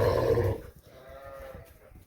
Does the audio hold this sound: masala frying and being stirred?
no